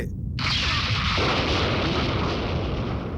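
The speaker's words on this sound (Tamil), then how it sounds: "அங்க பாருங்க, என்னமோ வெடிக்குது." A cartoon volcano erupts in a deep booming blast that swells into a loud, sustained roar of rushing noise.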